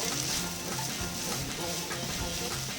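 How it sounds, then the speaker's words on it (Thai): Rice and egg being stir-fried in a hot pan give a continuous dense sizzle, with faint scraping and stirring knocks rising through the frying hiss. "ก็จะทำเป็นข้าวผัดนะครับ ให้ไข่มันแห้ง ก่อนแล้วก็ผัดลงกันเลย"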